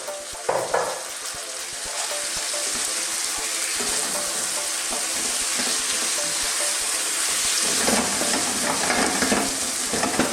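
Chopped tomatoes drop into a pan already frying pumpkin and onions for a vegan Indian curry, setting off a loud, dense hiss of sizzling oil that holds steady, with bursts of stirring and spatter near the start and end.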